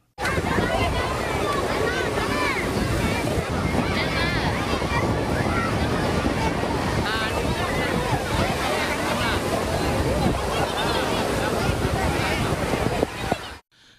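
Rough, heavy sea surf rolls in at Cuddalore Silver Beach, a continuous loud roar of breaking waves with wind buffeting the microphone and a crowd murmuring faintly beneath.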